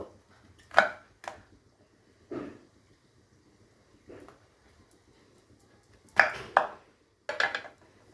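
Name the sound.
knife cutting pointed gourd (potol) into pieces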